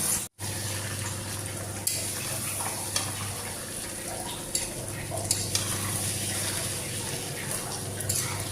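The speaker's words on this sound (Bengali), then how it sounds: "মাংস ধুইতেছি" Meat is rinsed under a running tap, water gushing in a continuous close hiss with occasional soft knocks and splashes from handling.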